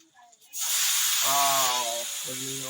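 Spices sizzling as they hit hot oil in a pan while jackfruit cooks, a sudden loud steady hiss starting after a moment and holding, with someone talking over it.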